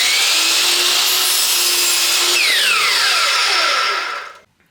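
A saw cuts a 30-degree angle through wood for a beginner home decor project: a loud, continuous, rasping cut that holds steady for about four seconds, then winds down and stops.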